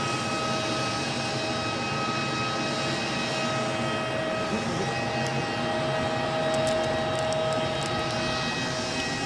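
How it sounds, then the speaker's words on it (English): Aer Lingus jet airliner departing Edinburgh airport, a steady broad engine roar that stays loud and constant throughout, with faint high whine tones above, no talking. "this Aer Lingus departure has snuck out nearly without me seeing it"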